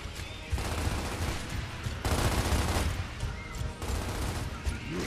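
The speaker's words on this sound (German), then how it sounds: "Ah, da schießt schon einer." Gunfire in the Gears of War video game crackles as a continuous, dense volley of shots that surges and eases in loud waves throughout, with no talk over it.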